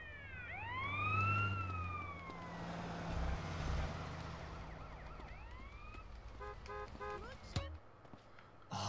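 An ambulance siren in GTA San Andreas wails in rising and falling sweeps, fading and returning amid game engine noise and traffic, with a short burst of rapid electronic chirps near the end.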